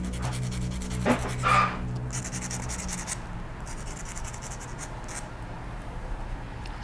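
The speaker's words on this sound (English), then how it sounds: "I've got a sanding block here. So I've got 400 grit. What I'll do is I'll just polish the end a little bit." Fine 400-grit sanding block rubbing and polishing the freshly cut end of a thin wire for a 1/12 scale model wire wheel, a soft close scratching scrape with a couple of brief louder strokes over a quiet background.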